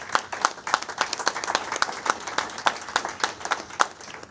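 Members of a transit authority board clap together in a meeting room, a brisk round of close, fairly loud applause from a modest group, steady throughout without talk.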